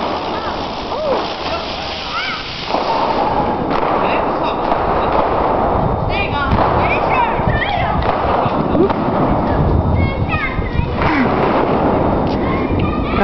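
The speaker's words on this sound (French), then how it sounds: "là c'est toute la famille qui est descendue pour mettre les pétards" Firecrackers set off by a family crackle and pop in dense, irregular bursts over a continuous loud hiss of rushing water, with scattered voices faintly audible in the mix.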